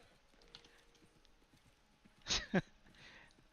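A horse's hooves clop in a video game, two brief, close hoof strikes in quick succession over a faint, quiet ambient bed.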